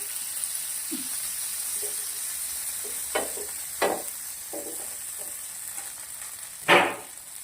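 Butter sizzling in a hot pan beside a sprouted cowpea snack, a steady soft frying hiss with a few brief stirring scrapes and one louder sizzle near the end, no talking.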